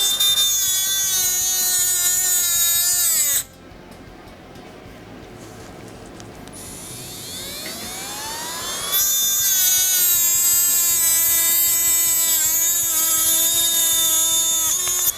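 Black+Decker BCRT8I cordless rotary tool spinning at maximum speed, a loud high-pitched whine that drops briefly into a lower, rising spin-up before returning to full steady speed.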